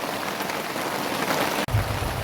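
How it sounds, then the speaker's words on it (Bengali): Rainwater pouring down inside a home kitchen, a dense steady splashing hiss that briefly cuts out near the end and resumes with a heavier low rumble. "আমাদের রান্নাঘরে বৃষ্টির জল পড়ছে"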